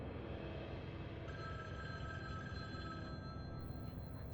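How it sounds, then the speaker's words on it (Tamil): A telephone keeps ringing in a Halloween fan-made horror video game, a steady electronic ring over a constant low background drone, with no talking. "இங்கே தான் ஃபோன் அடிச்சுக்கிட்டு இருக்கு பாருங்கள்"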